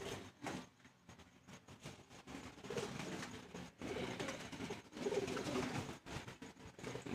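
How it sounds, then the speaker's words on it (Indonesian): Pigeons feeding in the evening, soft repeated cooing and pecking with rustling movement close by, fairly faint, with a rumble like a passing train in the background. "Merpati makan sore."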